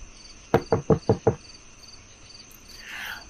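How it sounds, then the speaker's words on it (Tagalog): Five quick, loud knocks from beneath a floor in an old house come in a fast, even series, ringing out over a steady background of chirping crickets, followed by a faint rustling hiss. "Muling narinig ang katok. Mas malakas, mas mabilis."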